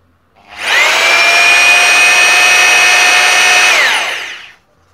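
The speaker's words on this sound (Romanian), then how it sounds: "Deci, găurire normală." Bosch GBH 2-28 F SDS Plus rotary hammer running in plain drilling mode: one loud, close, high-pitched whine that spins up, holds steady for about three seconds, then winds down.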